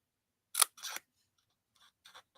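Scissors make a few quick, crisp snips close by: two sharp cuts first, then fainter short snips after a brief pause, with no voices.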